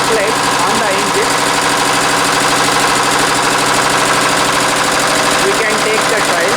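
A 4-stroke single-cylinder diesel engine running under load on a test bench, loud and close, with a steady, dense rhythmic knocking throb that continues unbroken.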